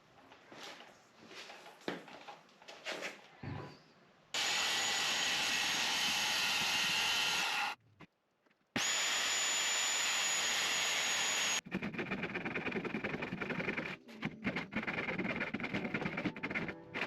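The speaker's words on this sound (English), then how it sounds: "Got my circular saw, time to cut it out." Circular saw cutting 1/2-inch Baltic birch plywood, heard as two long, loud, close whining cuts of about three seconds each with a short break between. Rougher, slightly quieter cutting noise follows.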